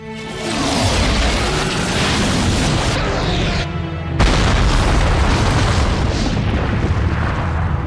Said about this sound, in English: Particle cannon!